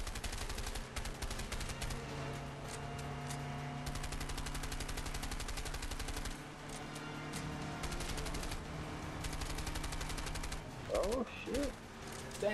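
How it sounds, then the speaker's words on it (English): Rapid automatic gunfire in A Way Out, a sustained rattling stream of shots over game sound, ending in a few louder bursts near the end. "Stand still so I can shoot you."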